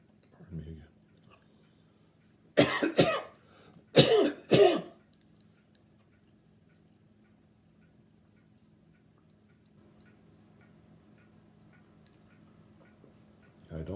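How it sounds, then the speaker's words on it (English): A man with a cough, speaking during a Bible lesson, lets out a short cough and then two pairs of harsh, close coughs. A faint steady ticking and low hum carry on quietly underneath. "I don't have COVID, but I do have a cough."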